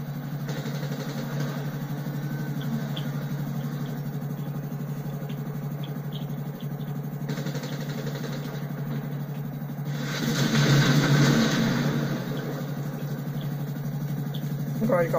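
Car engine in the video game GTA V, a steady mid-pitched drone that holds throughout and swells slightly louder for a moment near the end.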